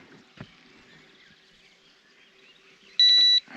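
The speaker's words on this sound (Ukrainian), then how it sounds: "Уже пищить батарейки, сідають, видно." An electronic device gives a short, steady high beep as its batteries run low, heard once near the end over quiet water and boat background.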